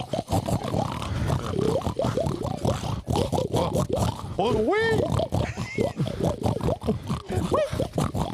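A person imitates a pig oinking at a spring event in Auxois, France, with a run of grunting, squealing vocal noises among lively talk and voices.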